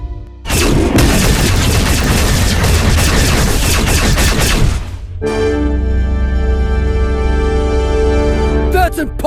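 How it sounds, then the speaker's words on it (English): Loud, dense burst of rapid gunfire and blaster-like shots from a Star Wars film scene, continuous for several seconds, then shifting to sustained tonal hums and sci-fi effects, no speech heard. "I want every gun we have to fire on those two."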